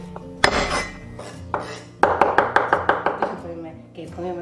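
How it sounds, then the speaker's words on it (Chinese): A kitchen knife chops scallion, ginger and garlic on a board, a few separate strikes followed by a quick rhythmic run of about eight close, crisp chops, with faint clinks of dishware. "最后再切一点葱姜蒜备用。"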